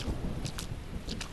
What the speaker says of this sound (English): It's raining so hard out there.